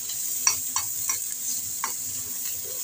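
Pointed gourd (potol) frying in a pan with salt and turmeric gives a steady hiss with a few soft stirring scrapes, close and moderately quiet, with no talking.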